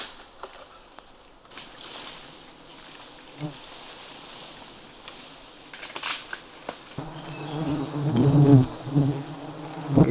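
Bees buzz around a large wild beehive hanging from a tree in the forest, a scattered hum growing louder and denser toward the end as insects fly close.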